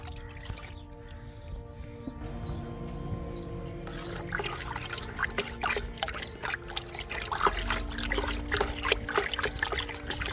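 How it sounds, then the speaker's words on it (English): Banana peel tea poured around tomato plants in soil, a soft steady trickle and dribble of liquid that grows a little louder and splashier partway through, with no talk. "soak them in water for a few days to make a banana peel tea that can be poured around the plants"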